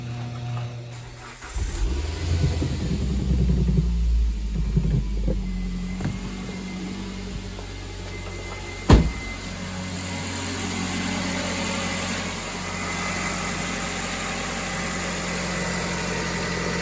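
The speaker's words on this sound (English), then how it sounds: "let's start the car and see what happens" A car engine cranks and catches after a brief quiet, then settles into a steady low idle that continues evenly, with one sharp click partway through and no talking.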